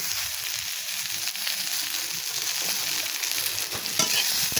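Dried fish fries in a pan with onion and chopped vegetables, giving a continuous close sizzle broken by scraping stirs.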